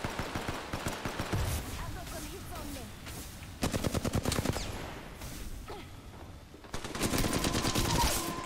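Rapid automatic gunfire in Apex Legends comes in several bursts of quick, evenly spaced shots, loud and close, with short pauses between the volleys.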